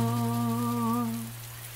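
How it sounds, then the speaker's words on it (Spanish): Rain falls as a soft, even hiss beneath a brief, clear, ringing tonal sound that fades out after about a second. "¿Está lloviendo? Está lloviendo."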